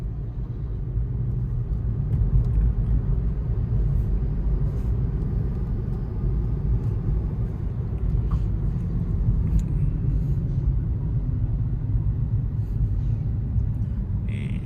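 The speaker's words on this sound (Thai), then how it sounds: "รถบรรทุกเยอะมาก สายขวาหน้าหลังหมดเลยใช่หมดเลยครับ" Heavy truck traffic rolling along a Thai highway near a large overpass at Khao Hin Son, factory area, as a steady, loud low rumble of engines and tires with no pauses.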